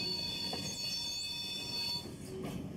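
A humanitarian aid train departing Mersin for Pakistan, its rail cars rolling steadily with squealing wheels and a metallic ringing whine over a rumbling clatter, fairly close and continuous.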